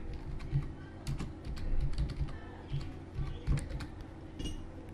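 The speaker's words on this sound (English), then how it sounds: "So now if you type a word, say I'll just type some sentence" A computer keyboard typed on at a steady pace for a sentence, the quick clicky key strikes close and continuous with no speech.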